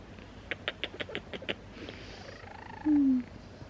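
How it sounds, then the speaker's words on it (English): A cat snores softly in a quick run of rhythmic breathy pulses, close and faint, followed by a brief squeaky whine. "She snores, like I've never heard a cat snore before."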